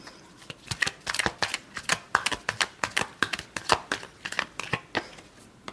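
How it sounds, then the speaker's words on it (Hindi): A deck of tarot cards is shuffled by hand close up, giving a steady run of crisp riffling flicks and slaps in an even rhythm, with no voice over them. "Last shuffle."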